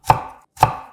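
A knife cuts through cucumber onto a cutting board in two crisp, evenly spaced chops, close and clear with no talking.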